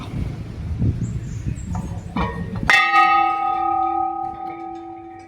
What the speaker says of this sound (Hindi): ये है इतना बड़ा घंटा।